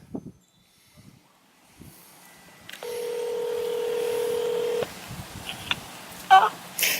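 A single long electronic ringback tone from an iPhone on Verizon sounds for about two seconds, with faint rustling and quiet sounds before and after it.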